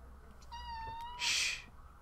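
A house cat gives one clear, drawn-out meow, followed by a louder, brighter meow. Both are close and stand alone over a quiet room background.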